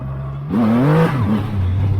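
Triumph Rocket 3 R motorcycle pulling away hard with the rear wheel spinning, engine note climbing in a loud, close surge after a brief quiet moment, then settling into a steady roar.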